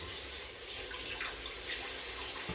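Tap water pouring steadily into a sink during hand washing, a constant close rush with a slight bump at the end.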